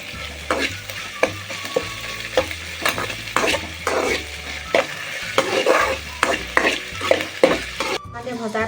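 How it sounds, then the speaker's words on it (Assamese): Garlic and ginger fry in a pan with a soft sizzle while a spoon stirs and scrapes repeatedly in an uneven rhythm, close and clear throughout, without voices. "নহৰু আদা কেঁচা গোন্ধ যোৱালৈকে এইখিনি এতিয়া মই ভাজি ল'ম"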